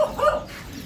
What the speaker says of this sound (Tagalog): Daming alagang aso